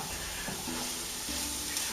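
Beef being stirred in cooking oil in a frying pan makes a loud, close, continuous sizzle, with the soft scrape of stirring running through it.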